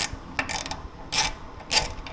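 Ratchet working loose the 10mm tank mount bolts on an Indian Sport Chief motorcycle, heard as three short close bursts of rapid metallic clicking separated by brief pauses, with no talk.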